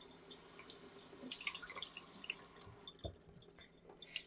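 Etched glass gets rinsed under a running tap in a sink, a faint, steady stream of water with soft splashes and drips as the piece is moved beneath it.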